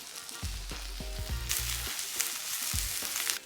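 Onion and red chilli sizzle in an oiled pan, a steady bright frying hiss with low knocks and scrapes from stirring, close and fairly loud with no talking.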